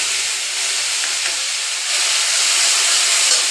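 Ground spice paste frying with dried fish and bhindi in a hot pan, a loud, steady, close hiss and sizzle that stays continuous throughout, with no voices.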